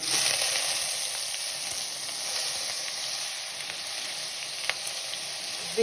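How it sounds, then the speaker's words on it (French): Lemon juice hits a hot pan for deglazing trout meunière, giving a loud, steady, close sizzle with bright hissing that holds evenly throughout, with no talking. "déglacer avec du jus de citron"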